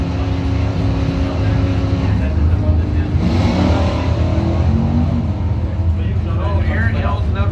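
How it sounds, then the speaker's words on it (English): Camaro race cars at a Bowtie event on an oval track, a steady loud roar of engines with a passing surge mid-clip, heard under continuous announcer commentary. "Andrew Ullman's 88 Camaro on the Woodstar Lane from Traverse City flat."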